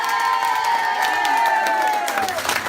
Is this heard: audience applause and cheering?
yes